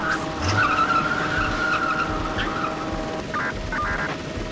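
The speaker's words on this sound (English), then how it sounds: "I love that gear change noise though" A Lamborghini getaway car in the Chase HQ arcade game roars with a steady engine drone and squealing tires. Bursts of gear-change noise cut through, with one cluster near the end, all loud and continuous.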